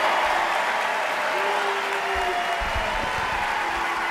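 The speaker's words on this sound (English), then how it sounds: "come on, we can clap it up for them one last time" A graduation audience claps together in a large hall, a dense and steady wash of applause lasting throughout at even loudness, with a few faint voices underneath.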